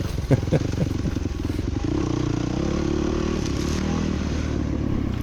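Dirt bike riding a rocky forest trail, its engine droning loud and close while rocks clatter and scrape under the tires, with a few harder knocks at the start.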